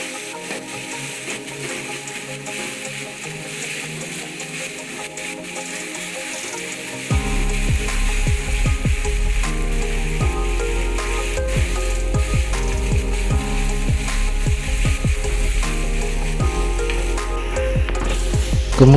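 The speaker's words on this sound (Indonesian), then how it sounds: "Kemudian kita masukkan ayamnya ya guys. Kita aduk-aduk terus sampai bumbunya meresap." Chicken pieces drop into a frying pan of spices for opor ayam, and the quiet low sizzle jumps to loud, steady frying partway through, with repeated scraping and stirring strokes against the pan.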